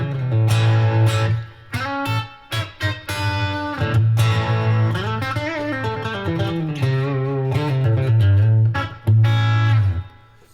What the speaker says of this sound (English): This is it clean, nothing to it, besides reverb, of course, and compression